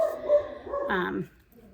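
A dog indoors at home gives a short run of barks and whiny yips, close and moderately loud, lasting under two seconds before fading to quiet.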